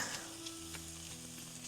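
Eggs fry in a pan beside smoked sausage, giving a steady broadband sizzle with faint crackles and a low hum underneath, close and moderately quiet, with no talking.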